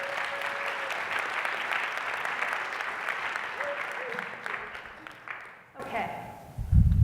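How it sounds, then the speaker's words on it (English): A conference session audience applauds a volunteer named Ben, sustained and evenly loud clapping that fades after about five seconds, followed by a speaker's voice close to the mic. "Round of applause for Ben"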